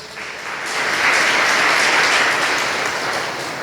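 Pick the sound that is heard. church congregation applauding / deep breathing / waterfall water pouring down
church congregation applauding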